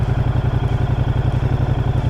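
A Moto Guzzi V100 Mandello S motorcycle engine idles nearby with a steady, loud, throbbing low pulse and a light mechanical clatter, with no voices over it.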